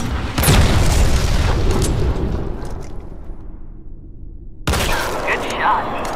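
A heavy RPG blast in the mobile shooter Sniper Fury booms loudly near the start and rumbles as it fades away over several seconds, followed by a second sharp burst of noise.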